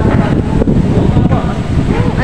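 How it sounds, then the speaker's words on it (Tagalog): Strong gusts buffet the microphone in a continuous loud roar outdoors among mountains and trees, with uneven surges and brief dips in force. "Mahangin, sobra hangin."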